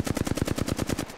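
Gunfire in the video game Apex Legends: a close, rapid burst of about a dozen evenly spaced automatic shots fired in just over a second.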